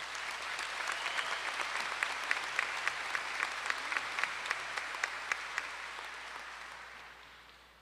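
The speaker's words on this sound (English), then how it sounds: "let's give all of them a round of applause for all of that." Applause from the audience at a high school graduation ceremony, a broad, steady wash of many hands clapping at a distance with a few sharper claps on top, tapering off gradually toward the end.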